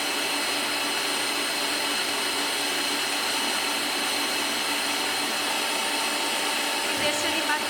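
An electric mixer whips egg whites with sugar for white chocolate mousse, a steady high-pitched whirring drone that runs unbroken and close throughout.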